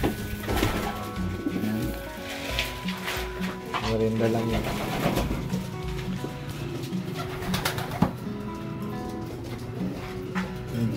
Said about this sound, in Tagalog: Merenda tayo sa mga kalapati.